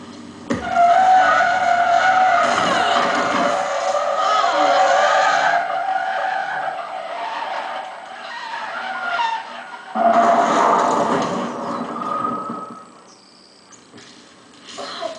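A Ford car brakes hard on a two-lane road with a soft shoulder, tires skidding and squealing loudly for several seconds, fading, then a second long screech of rubber, close and dominant with no talk over it.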